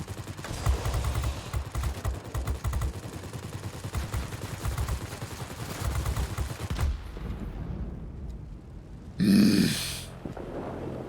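Rear gunner machine gun fire in World of Warplanes: rapid sustained bursts of rattling gunfire for several seconds, then it stops and a brief louder burst follows near the end.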